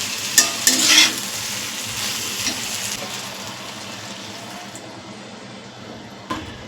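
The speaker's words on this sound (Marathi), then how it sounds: "हे गरम पाणी आपल्याला जेवढं हवं आहे ना तेवढं घेऊन यामध्ये ओतायचं" Hot water goes into a simmering brinjal and potato curry with dried Bombay duck, starting with a brief splashing burst and then settling into a steady, softer bubbling sizzle.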